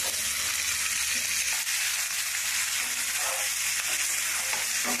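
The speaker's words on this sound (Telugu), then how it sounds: "ఇప్పుడు ఈ ఆయిల్ వేసిన తర్వాత ఇప్పుడు నేను మూత పెట్టేసి ఒక 3-4 నిమిషాలు అయితే చక్కగా ఉడకనిస్తానండి" Chicken fries in oil inside a covered pan, giving a steady, dense sizzle that holds close and even from start to end, with a few faint knocks underneath and no voices.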